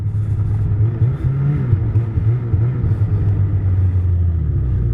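A Piston Bully Trail Bully snow groomer's engine idles and rumbles nearby with a deep, steady low drone and slight revving swells on a snowmobile trail.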